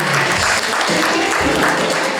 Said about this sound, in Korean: 여러분 큰 박수로 축하해 주세요.